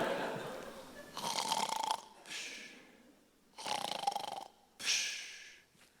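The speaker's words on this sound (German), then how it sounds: "Du schnarchst immer noch." A sleeping person snoring in bed, three or four loud rasping snores in a slow rhythm with quiet breathing gaps between them, close and with no talk.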